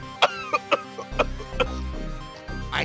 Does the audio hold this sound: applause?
no